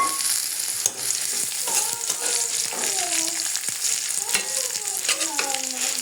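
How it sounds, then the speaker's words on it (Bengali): Shrimp frying with onion and garlic in a pan, a steady close sizzle with occasional stirring scrapes, while a voice talks over it. "পেঁয়াজ এবং রসুনটাকে ভেজে নিয়েছি, চিংড়ি মাছটাকে আবার অ্যাড করে দেবো এর সঙ্গে।"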